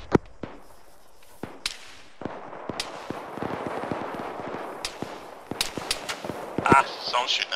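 Gunfire in the military shooter Arma 3, sharp single cracks and scattered bursts from near and farther off, irregularly spaced, with a voice talking between and over the shots.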